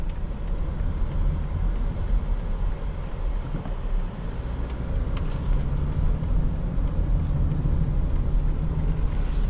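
Steady interior drone of a 2024 BMW X3 xDrive30i M Sport under smooth acceleration, a low, continuous engine and road rumble that holds even and close with no voices.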